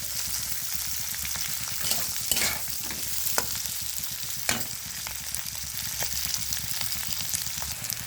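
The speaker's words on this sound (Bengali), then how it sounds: "পেঁয়াজ দিয়ে দেবো। সুন্দর সামান্য হালকা করে আমি ভেজে নেব।" Onions frying lightly in a pan for egg chilli chicken, a steady close sizzle with a few scraping stirs of the spatula breaking through, no voices.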